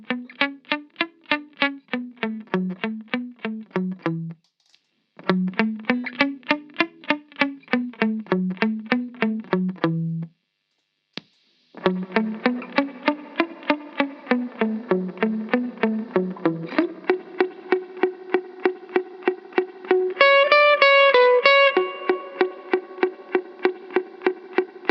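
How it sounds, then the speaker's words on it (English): Electric guitar played through an amp with effects, repeated plucked notes and chords ringing with a spring-reverb-soaked tail, steady and fairly loud with brief gaps. "then I'll kick on the spring reverb so you can hear that as well"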